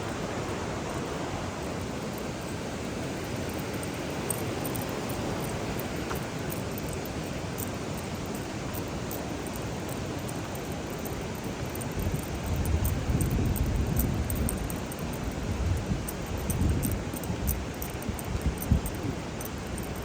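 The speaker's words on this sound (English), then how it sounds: "This is the Sacramento River." Broadband rushing flow of the Sacramento River, a steady wash close by with a swell in strength around the middle, no voices.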